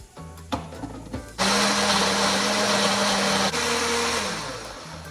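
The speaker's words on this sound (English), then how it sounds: "now I'm gonna puree this" A countertop blender purees three Anaheim peppers, a loud steady high-pitched whir running for about two seconds, then changing pitch and trailing off, preceded by a few clunks.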